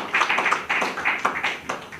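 A crowd applauds an honoured guest during a testimonial gathering at an interdiocesan centre, with dense overlapping claps rising and falling in quick waves from a moderately close audience.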